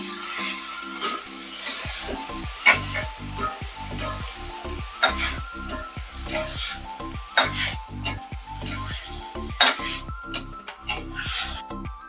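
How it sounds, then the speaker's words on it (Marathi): Spoon scraping and stirring gaboli (fish roe) into onions fried with turmeric and chilli in a pan, steady sizzling under a string of rhythmic scrapes and knocks, close and busy. "आता याच्यामध्ये आपण गाबोळी घालून घेऊया आणि एक जीव करूया"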